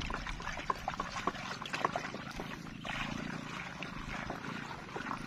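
Stirred pesticide mixture pours into a sprayer tank already holding water for rice pest control, a steady liquid trickle with small splashes and no talk.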